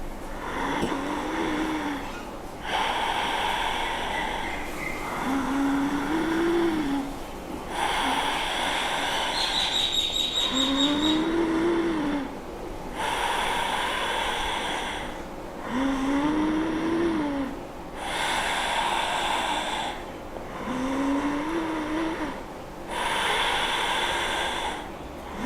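Ujjayi breathing drawn through the throat, a soft snore-like rasp in slow, even cycles, with about five long breaths close to the listener over a faint steady background hiss.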